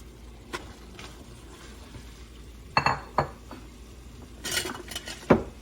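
A utensil clanks and scrapes against a hot pan while noodles are stirred and combined in a culinary arts kitchen: a few sharp metallic clinks and knocks, scattered and close, over a faint background hiss.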